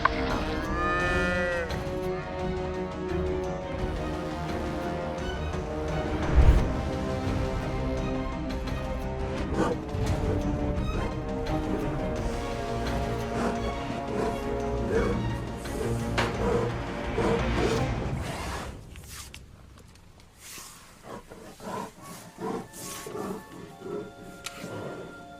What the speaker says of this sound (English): The moment a lion attacks a cow in Gujarat is captured on video.